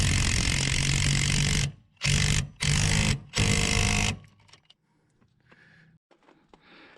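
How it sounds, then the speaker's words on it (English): An impact wrench or power tool tightens a 19mm nut on a rear shock mount of a 2010 Dodge 3500 with a 6.7 Cummins, during a Bilstein 5160 install: three loud, harsh bursts close by, then faint clicks and handling noise. "I'm now going to tighten on that"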